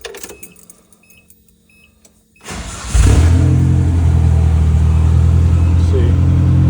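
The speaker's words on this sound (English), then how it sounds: "start the truck up just to kind of show you" A 1993 Nissan D21 truck with a KA24E engine cranks over in a garage at night, catches after a brief starter whir, and settles into a steady, loud idle with a deep rumble filling the rest.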